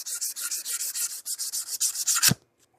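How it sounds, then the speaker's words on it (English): Very fine sandpaper rubbing back and forth over a surface in a steady rhythm of about a dozen short, close strokes, ending with a soft knock, no voices. "this is just like a fine, very fine sandpaper."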